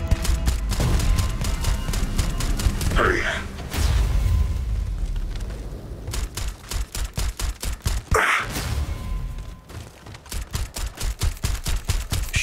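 Rapid bursts of gunfire in the space RPG Starfield, loud and close, with clusters of sharp repeated shots that break into a steady staccato rattle, and short pauses between the volleys.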